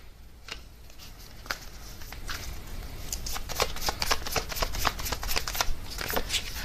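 Tarot cards are shuffled by hand in a steady run of crisp riffles and soft flicks, growing busier and denser toward the end, close and alone with no voices.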